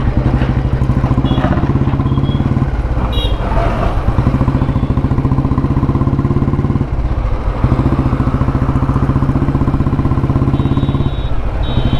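A 1957 Royal Enfield Bullet G2 vintage motorcycle rides along, its single-cylinder engine thumping in a loud, steady rapid beat close by, with brief dips in the rhythm as it runs on; no talk.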